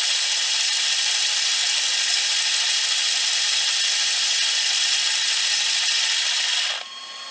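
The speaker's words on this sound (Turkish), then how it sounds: "Ve şu anda elektrik Solo'yu taktım ve öğütüme aynı ayarda başlıyorum." A Comandante C40 hand grinder driven by a Hario Electro Solo electric adapter grinds coffee beans with a steady, loud, continuous whirring grind that stops abruptly near the end.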